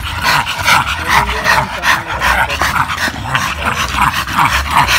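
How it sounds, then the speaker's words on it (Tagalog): A recovering dog pants heavily and rapidly up close, mixed with yips, whimpers and low growly breaths in a continuous loud rhythm. "Ba't iba yung hingal nitong aso na to?"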